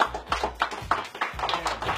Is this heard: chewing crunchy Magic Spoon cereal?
no